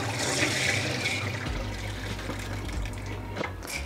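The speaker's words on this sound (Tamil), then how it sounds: "ரெண்டு தண்ணியில் நல்லா கசக்கி கழுவணும்" Urad dal rubbed and washed by hand in water, a continuous sloshing and swirling with gurgling splashes and a low churning rumble, close and steady.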